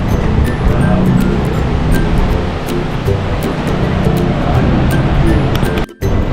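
Continuous roaring surf washes in broadband noise on a beach at Daet, loud and close, with faint clicks and bumps near the microphone and a brief dropout near the end.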